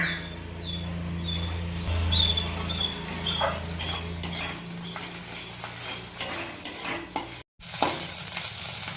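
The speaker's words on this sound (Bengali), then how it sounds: "মাছের ডিমটাও অনেকটা ভাজা হয়ে গেছে।" Fish roe sizzles and fries in a pan for a Bengali fish-roe chop, with steady crackling under repeated scraping and clinking of a spoon as it is stirred; the sizzle drops out briefly near the end, then resumes.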